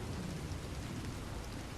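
Rain and thunder from a storm in the video game Red Dead Redemption 2: a steady, dense hiss of rainfall with a low rumbling undertone, continuous and fairly close, with no talking.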